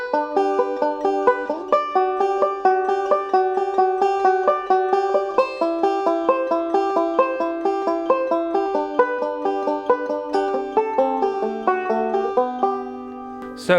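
A 5-string banjo picks a B-part passage built on diatonic thirds, with bright plucked notes in a steady rolling rhythm and chord shapes moving up and down the neck, played alone and close.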